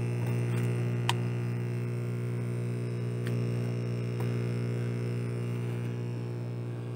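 A small aquarium air compressor aerating a tilapia tank runs with a constant low electric hum and buzzing harmonics, steady throughout with a few faint clicks and taps in the background.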